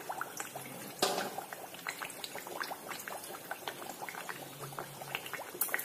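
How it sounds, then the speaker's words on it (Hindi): Kachora frying in hot oil over a full flame, steady crackling sizzle with scattered pops and a sharper spatter near the start, close and moderately quiet with no talk. "इसमें तेल डाल दिया है। अब हम जो है इसमें कचौरा डालेंगे, तेल बिल्कुल गर्म हो जाना चाहिए"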